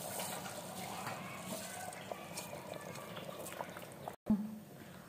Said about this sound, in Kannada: ನೀರು ಕುದಿತಾ ಇದೆ ಅಕ್ಕಿ ಹಾಕೊತಾ ಇದ್ದೀನಿ